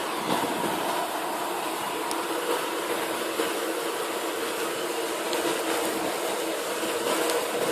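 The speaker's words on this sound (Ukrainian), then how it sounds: "Ми зараз знаходимося там, де миють вагони." Steady broadband rumble and hiss fill a railway depot where passenger train carriages are washed, continuous and even throughout with no voices.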